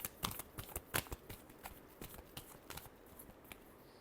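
Tarot cards are shuffled by hand in a quick, uneven series of crisp riffling snaps and flutters, close and fairly quiet, thinning out toward the end.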